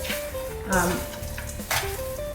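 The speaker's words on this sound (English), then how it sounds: "I washed my hands, so I'm just going to mix this together." Burger ingredients for jalapeño bacon cheeseburgers being mixed together by hand in a bowl, giving a close, continuous wet squelching and squishing with a couple of louder pushes and a faint steady hum underneath.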